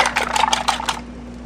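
Whisked eggs poured into a hot pan with a teaspoon of butter, giving a close, brief crackling sizzle in quick bursts over a low hum, then fading within a second.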